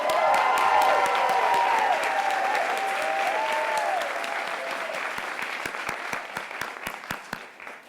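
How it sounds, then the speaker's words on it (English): Student authors and artists get loud clapping and cheering from the audience, with whoops and a rising shout over the first few seconds, then the applause thins to scattered claps toward the end. "please clap and make some noise"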